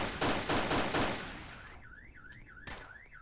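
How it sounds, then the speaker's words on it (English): Gunfire in the Roblox police game PoliceSim NYC: a rapid burst of about four loud shots, then a wailing siren-like tone that swoops up and down, cut by one more sharp shot, with no talking. "He's shooting at me."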